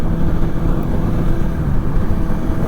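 A Suzuki GSX-S750 motorcycle engine runs loud and steady throughout, with a dense low rumble and no clear rise or fall in revs, heard alone without talk.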